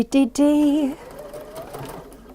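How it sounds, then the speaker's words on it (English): A sewing machine stitching a quarter-inch seam, a short loud whirring burst early on before easing off, with a voice talking briefly at the start. "we're going to sew 1/4 inch round here"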